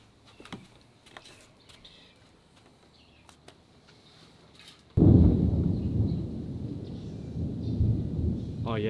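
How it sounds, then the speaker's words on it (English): Thunder rolls in from an approaching storm outdoors: faint rustling and distant voices first, then a sudden loud deep rumble that swells and keeps rolling for several seconds. "Bit more thunder. It's rolling in."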